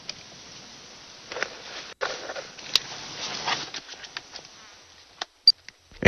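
Tiny fruit flies buzz faintly and steadily close by, their thin drone joined by scattered soft ticks and small patters, with a few sharper clicks near the end.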